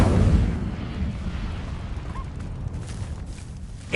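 In Hogwarts Legacy, a cast Incendio fire spell bursts out with a booming whoosh, followed by a steady rumbling roar of flames that ends in a small flare.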